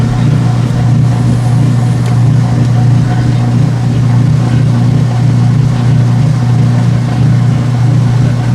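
A washing machine runs close by, heading toward its spin cycle, producing a loud, steady motor drone with a strong low hum and a faint rhythmic churning underneath, constant for the whole stretch.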